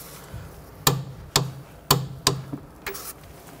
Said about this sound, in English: Torque the sway bar end link nut to 47 foot-pounds.